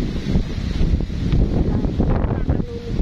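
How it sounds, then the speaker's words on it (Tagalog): Outdoor wind buffets the microphone with a continuous low rumble and gusts for a few seconds, with faint sounds of people in the background. "Sarap ng hangin"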